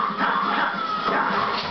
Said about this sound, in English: Dude, what's with your dog barking